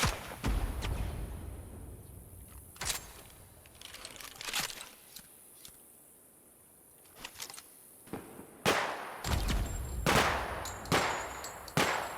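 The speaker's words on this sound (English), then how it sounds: "You shooting at me? Yeah, you are, but you're using a wrong gun." Bursts of video game gunfire crack out in scattered volleys, some rapid and loud, others distant, separated by quieter gaps.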